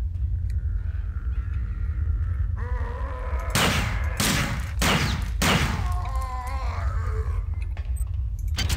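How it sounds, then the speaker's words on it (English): Turret gunfire in System Shock 2: three loud, sharp bursts of shots in quick succession over a steady low game hum, near and harsh. "There's a turret down there."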